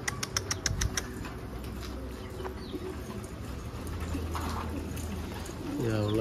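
Pigeons flap their wings in a quick burst of fluttering and then land, with soft cooing and someone speaking nearby.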